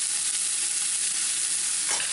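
Green peas, French beans, corn and carrot mixed in a hot pan for a veg puff filling, giving a steady close frying hiss with a brief stirring scrape near the end and no voices.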